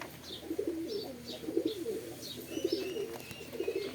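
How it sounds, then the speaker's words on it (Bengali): Domestic pigeons coo repeatedly in low, rolling phrases close by, with soft chirps higher up, steady and unbroken with no one talking. "শান্তনাদার থেকে একটা মাদা পায়রা নিয়ে এসেছিলাম, সেখান থেকেই এই বাচ্চাগুলো হয়েছে।"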